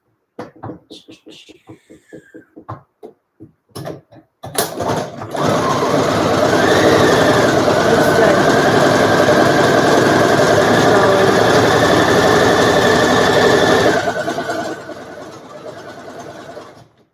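A sewing machine runs a zigzag stitch on fabric masks, a loud steady motor whir lasting about ten seconds and then winding down, after a stretch of scattered clicks and handling knocks at the start.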